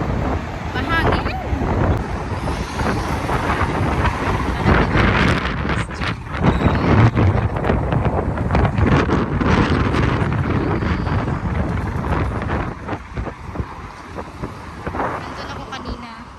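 Strong cold wind buffets the microphone along the Corniche waterfront, a loud, continuous rushing roar with gusts rising and falling, and a person speaking intermittently underneath.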